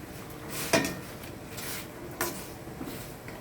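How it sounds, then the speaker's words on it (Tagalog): String beans (sitaw) tipped into a cooking pot of Filipino vegetable stew, giving a couple of clattering metal clinks and a soft rustle, close and moderately loud with no talking. "lagay na rin po natin yung sitaw"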